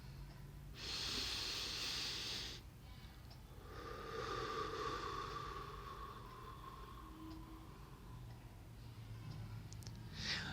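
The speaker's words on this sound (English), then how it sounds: "It may involve a simple rhythmic breathing method." Slow, rhythmic breathing during wordless prayer: a soft, airy inhale followed after a pause by a longer, gentle exhale, close and quiet in a still room.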